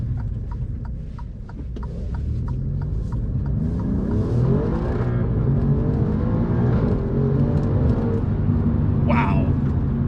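An Alfa Romeo Giulia Quadrifoglio engine revs and accelerates hard, its pitch sweeping upward through the gears, loud and close, with a voice talking over it.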